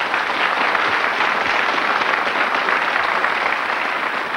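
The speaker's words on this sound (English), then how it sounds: "We applaud and salute Kevin Nelson." Studio audience applause on the 1987 game show Countdown: a thick, even wash of clapping, loud and unbroken from start to finish.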